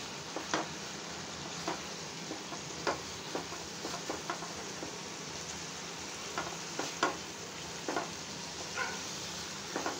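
Roughly mashed boiled potatoes stirred into a pan for quick jeera aloo, giving a faint steady sizzle broken by scattered light scrapes and taps of a spoon.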